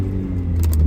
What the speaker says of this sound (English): I've got to start the engine.